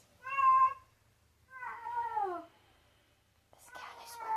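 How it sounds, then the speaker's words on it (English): A pet cat named Laddie meows three times, close and fairly quiet, with two clear drawn-out cries followed by a rougher, noisier one after short pauses. "This cat, I swear."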